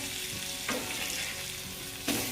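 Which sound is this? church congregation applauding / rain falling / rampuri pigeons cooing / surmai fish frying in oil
surmai fish frying in oil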